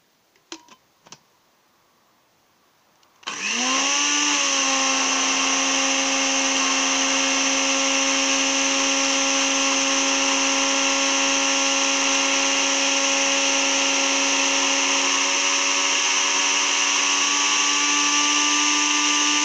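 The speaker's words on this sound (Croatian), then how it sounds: "Staviti u blender." A blender grinds dried medicinal herbs into powder, starting after a few seconds of quiet with faint clicks, then a loud steady motor whine that runs continuously to the end with no talk.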